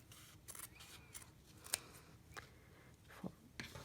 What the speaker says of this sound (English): if you miss cutting any, it's a simple matter of just cutting it on the line